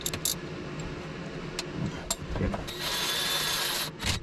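A bolt is tightened down on the starter motor of a Yamaha SX190 jet boat. A few sharp ratcheting clicks are followed by a sustained close whirring pass, with no talking.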